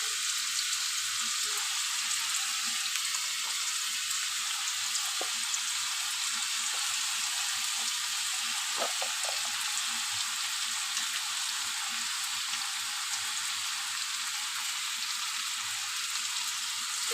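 Potatoes, seasoned with salt and a little turmeric, fry in a pan with a steady, fairly quiet hiss that runs unbroken throughout, with a few faint stirring clicks and no talking.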